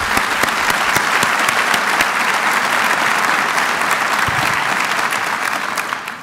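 A large audience at a university State of the University address gives a loud, sustained round of applause, thick and continuous throughout before tapering slightly at the end.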